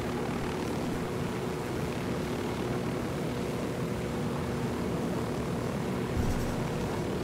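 Helicopter flying in Ghost Recon Wildlands, a steady broadband rotor and engine drone held at even loudness through the whole stretch, with no talking.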